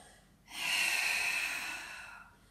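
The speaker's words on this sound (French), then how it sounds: "on expire par l'arrière-gorge, comme si on voulait faire de la buée sur un petit miroir" A single long, breathy exhale is pushed through the back of the throat as in Pilates breathing, a close, hissing rush of air lasting about two seconds before fading.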